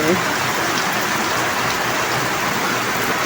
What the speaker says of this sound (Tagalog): Ang tulo ng trapal.